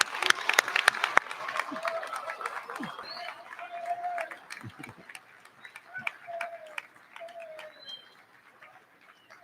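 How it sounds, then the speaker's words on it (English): An audience at a high school Veteran's Day celebration applauds a choir in a burst of dense clapping that fades within the first couple of seconds, leaving quieter room sound with faint cooing tones. "Can we give them another round of applause?"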